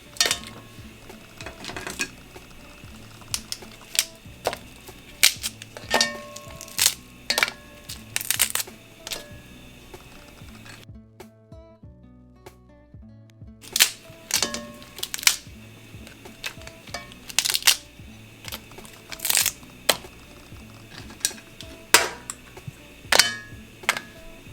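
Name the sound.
breaking apart Dungeness crab shells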